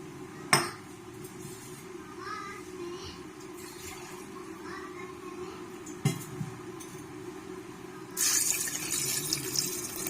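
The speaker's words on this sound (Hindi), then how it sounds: "एक गिलास पानी ऐड कर दिया।" A glass of water splashes and pours briefly into a pressure cooker with mutton amid clinking pots and utensils, with a sharp knock early on and a louder rush of running water near the end.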